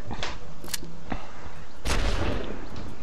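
Weapon fire in Worms W.M.D sounds as a few sharp, loud, close cracks in quick succession, then a heavier blast with a rumbling tail, with no one talking.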